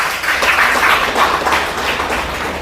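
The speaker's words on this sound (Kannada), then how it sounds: "ಹೌದಾದರೆ ತಾವೆಲ್ಲ ಒಂದು ಚಪ್ಪಾಳೆ ತಟ್ಟಬೇಕು." Steady audience applause fills a temple fair comedy programme at Kasaragod's Sri Mallikarjuna temple, a dense wash of many hands clapping at moderate volume throughout with no speech.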